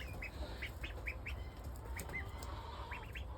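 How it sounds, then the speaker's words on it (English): A laying female duck in a pen calls with a series of short, faint quacks spaced irregularly, some in quick pairs, over a steady low background hum. "there's one of our lady ducks right there, still laying eggs really good."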